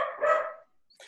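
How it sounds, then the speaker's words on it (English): A dog barks once or twice nearby indoors, short and sharp, followed by a brief quieter sound. "I could write a story about my embarrassment of recording with my dog barking in the background"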